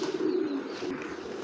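A large-headed pigeon with a black tail gives a short, low cooing phrase up close, one soft rolling call that fades out within a second or so.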